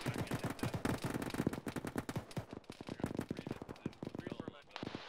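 Rapid automatic rifle fire in a military video game, a dense stream of sharp shots near and loud over several seconds, with bursts breaking off toward the end and voices talking underneath.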